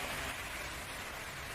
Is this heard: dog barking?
no